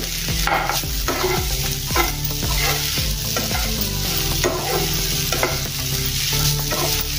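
A spoon stirs okra and potatoes frying in a pan, with brisk repeated scrapes and clatters over a constant, fairly loud sizzle and no voices.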